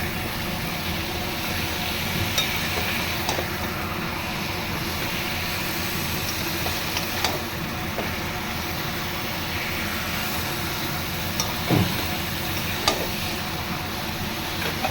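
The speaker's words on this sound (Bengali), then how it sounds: "আমি একটু মশলার সঙ্গে ভালো করে কষিয়ে নেব।" Mutton and spices being fried and stirred in a pan for a mutton curry, giving a steady continuous sizzle throughout, with a few soft spoon scrapes and clinks over it and no talking.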